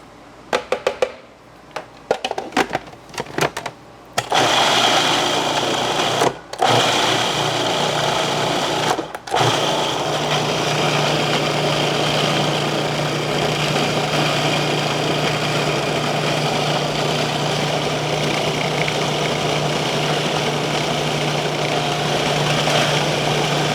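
A food processor or grinder chops food finely, whirring steadily and loudly for about twenty seconds after a few short pulsed bursts at the start.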